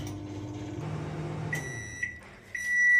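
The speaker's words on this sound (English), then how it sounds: "in the microwave. And let it run" A microwave oven hums steadily for a moment, then gives a few sharp electronic beeps as it is set and started, with the running drone swelling up afterward, close and clear.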